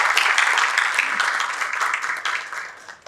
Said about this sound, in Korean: 차관님께서 무대로 올라오시는 동안 또 여러분의 따뜻한 박수로 맞이해 주시길 바랍니다.